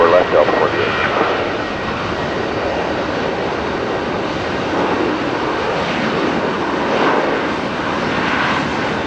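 A Delta jet airliner takes off from runway 24 left at LAX, a steady broad roar of engines filling the whole stretch at moderate distance, with air traffic control radio voices talking over it.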